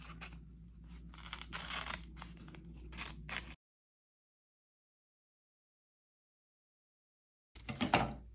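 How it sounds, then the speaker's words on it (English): Scissors snip through a paper Mobius strip along a drawn center line, a close run of crisp cutting and rustling that stops for several seconds of silence, then a brief burst of paper handling. "we can take some scissors here and we can actually just start cutting"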